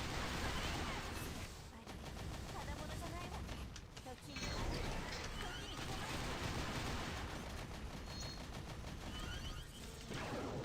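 A missile barrage in the Action Taimanin video game, loud dense rapid gunfire and explosions rattling continuously, with brief dips in intensity.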